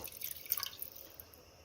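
Water splashes and trickles in short dripping bursts into a pot for a mushroom marinade, fairly quiet and close, with no one speaking.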